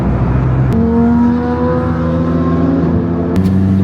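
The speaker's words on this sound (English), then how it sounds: "Nick rolling out in the gorgeous green Performante" A green Lamborghini Huracán Performante pulls away outside a car meet, its engine note rising through clear upshifts with steady droning harmonics, close and loud throughout with no talk.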